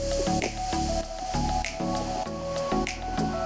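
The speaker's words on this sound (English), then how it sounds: "You do this to scoop all the cranberries in?" A net scoops floating cranberries out of a flooded bog in Wisconsin, giving repeated wet splashes and squishy dripping sloshes in a steady rhythm, close and fairly loud, with no talk.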